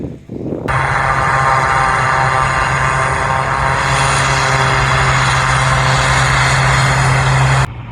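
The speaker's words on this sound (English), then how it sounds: "I want to see if you can race the plane" A fixed-wing airplane near an airport flies past, its engine starting abruptly with a loud, sustained droning roar and steady low hum that holds close and strong for several seconds before cutting off.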